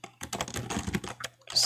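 Rapid typing on a computer keyboard, a close, fairly quiet run of uneven clicking keystrokes with a few brief pauses.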